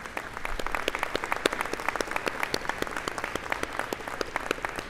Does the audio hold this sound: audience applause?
yes